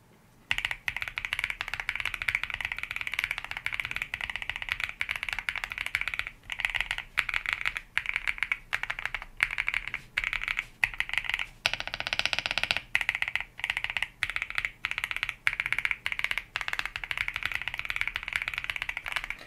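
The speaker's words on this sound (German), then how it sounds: "jetzt schauen wir uns dann noch die Wind-Switches an von F-Lion, die sich ein bisschen leichter tippen sollten" Rapid, steady typing on a mechanical keyboard fitted with light linear F-Lion Wind switches, a dense stream of crisp close clacks with brief pauses.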